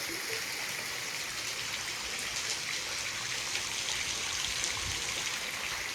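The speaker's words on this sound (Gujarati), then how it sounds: "જો ઉપરથી પાણી પણ પડતું છે" Water falls and trickles from above at the mouth of a cave in Dang, Gujarat, making a steady, continuous splashing hiss like a small stream, with no one talking.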